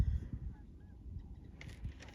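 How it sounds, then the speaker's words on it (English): A large flock of geese or trumpeter swans, around a thousand birds, honks faintly in the distance over low rumbling background noise, with a brief burst of higher calls near the end. "I don't know if those are geese or trumpeter swans."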